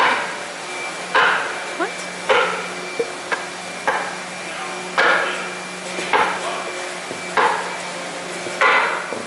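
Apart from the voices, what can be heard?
smacking a part to square it up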